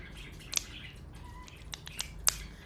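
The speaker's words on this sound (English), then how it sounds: "I'm babysitting two birds, so they're very chatty." Two pet birds indoors give short, sharp chirps and tweets, a few isolated bursts spaced irregularly over quiet room tone, moderately close.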